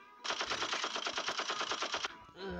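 Rapid AP pistol gunfire in a video game: a fast, even burst of roughly fifteen shots over about two seconds, loud and steady, followed by a brief voice-like tone.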